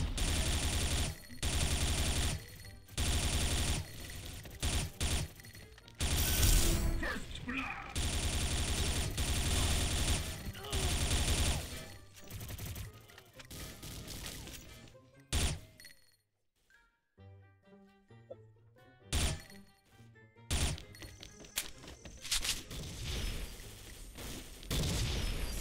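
Gunfire in the online shooter XSHOT, Ghost Mode, comes in repeated loud bursts and single shots mixed with booms, broken by a short quieter stretch with game tones before the shooting resumes.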